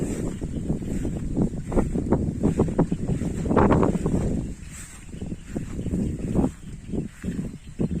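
Cool wind blows across open rice fields and water after rain, a steady rushing roar that buffets the microphone with gusts rising and falling, loudest around the middle, with no talk.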